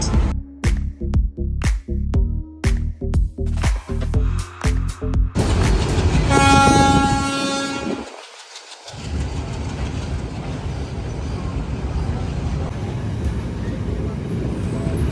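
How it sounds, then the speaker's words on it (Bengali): A crowded second-class train on the coastal line from Galle to Colombo in Sri Lanka clatters along the rails in rapid rhythmic bursts, then gives a long horn toot before settling into a steady rolling rumble. "বেশ ভিড় ছিল ট্রেনে বাট ট্রেনটা সমুদ্রের পাশ দিয়ে যায় সো এই ট্রেন জার্নিটাও খুব সুন্দর"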